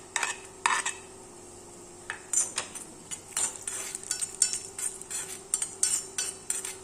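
A spoon scrapes and clinks against a metal pan in quick irregular strokes, chopped almond pieces rattling and shifting as they are stirred in ghee, with no talking.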